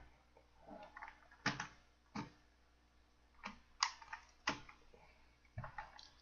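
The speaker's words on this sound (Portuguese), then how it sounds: "Eu vou estar abrindo uma teclinha dela aqui pra vocês verem" Several sharp plastic clicks and snaps of a keycap being pried off a WELLRUI V801 (Phoenix) mechanical keyboard with brown switches, close and fairly quiet, spaced irregularly with short pauses between them.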